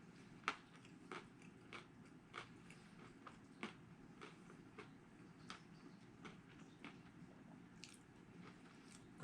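Quiet, close crunching and chewing, a dozen or so crisp bites of crunchy chow mein noodles, spaced irregularly with soft mouth sounds between them.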